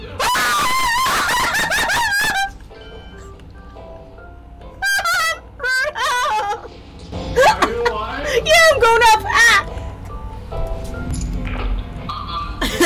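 A Maneater creature in the video game Lethal Company lets out loud, high shrieking screams in repeated bursts, with excited voices talking over and between them.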